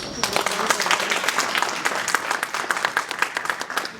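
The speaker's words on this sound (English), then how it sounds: "Once again, another round of applause for Faven Kiros" Audience at a genocide victims commemoration event applauds after a speech, dense steady clapping filling the room with cheers mixed in, loud and sustained throughout.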